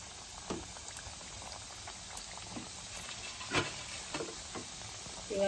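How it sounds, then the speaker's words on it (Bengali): Samosas (singara) frying in medium-hot oil over low heat, giving a steady soft bubbling sizzle with a few louder spits and crackles, close and alone without talk. "এবার আমি সিঙ্গারাগুলো তেলে দিয়ে দিচ্ছি। এগুলো একটু ভেজে নেব।"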